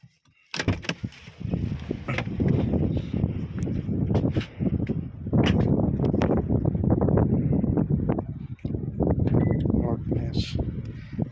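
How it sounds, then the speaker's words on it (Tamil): Strong wind in Qatar roars and buffets the microphone in a loud, steady rush, with a voice partly buried underneath. "நல்லா காற்றடிக்குதுங்க இங்கே"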